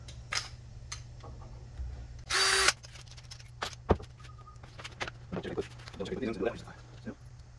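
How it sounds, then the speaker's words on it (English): A power drill driving screws whirs in one short, loud burst amid scattered clicks and handling knocks, with a steady low hum underneath. "I can drill these in with the spacers. Pre-drill it, drill it in,"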